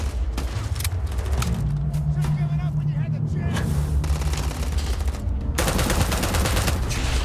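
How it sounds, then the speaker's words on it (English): Rapid bursts of gunfire from a weapon in the space game Starfield ring out loud and close in repeated volleys, with a sustained rattling stretch in the middle and another dense burst near the end. "Dude, this gun is so inaccurate from range"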